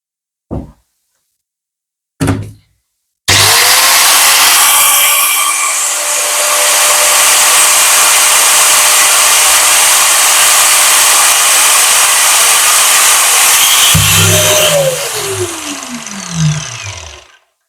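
A Caterpillar DX3092 angle grinder, drawing 480 watts with no load, is switched on for an RPM test. A couple of sharp knocks come first, then a loud, steady high whine runs for about ten seconds before winding down.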